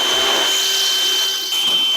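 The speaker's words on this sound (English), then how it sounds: "I'm just going to drill out this pilot hole." Steady whine of a small drill boring out a pilot hole with a 10-32 tap drill in the metal frame of a 1.6-inch scale GP40 model locomotive, loud and close, running continuously with a brief dip near the end.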